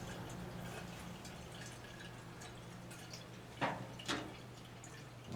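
Fuel draining from the carburetor of an MTD 8 hp wood chipper into a measuring cup, a soft steady trickle with a low hum underneath and two louder drips or splashes near the end.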